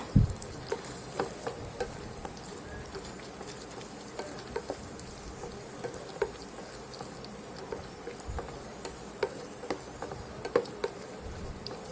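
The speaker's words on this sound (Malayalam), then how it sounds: "മുന്തിരിയും കാഷ്യൂ നട്ടും വറുക്കുമ്പോൾ മീഡിയം ഫ്ലെയിമിലിട്ടിട്ട് തന്നെ വറുക്കണം കേട്ടോ." Steady ghee sizzle with small pops and crackles as cashews and raisins fry on medium flame, close by and fairly quiet, running without a break and with no voices.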